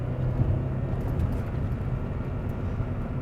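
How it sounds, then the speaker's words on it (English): A Honda Prelude with a manual gearbox drives in second gear, its engine a steady low drone mixed with road rumble inside the cabin. "So currently in second gear, you can probably just hear that engine."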